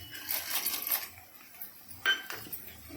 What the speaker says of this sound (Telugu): నెక్స్ట్ హాఫ్ కప్పు పుట్నాలు వేసుకుందాం